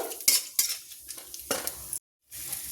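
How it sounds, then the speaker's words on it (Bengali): Whole spices in hot oil sizzle as a utensil stirs them in a pan, with several sharp scraping and clinking strokes spaced through the clip and a brief silent gap, no talk. "দিয়ে এবার এটাকে আমি একটু ভালোভাবে নাড়াচাড়া করে নেব"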